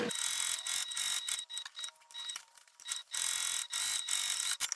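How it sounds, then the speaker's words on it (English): A sewing machine topstitches close beside a seam on a clutch bag in rapid mechanical whirring bursts, stopping and starting several times with short pauses between runs. "I'm going to top stitch just 1/8 of an inch away from each side of this seam."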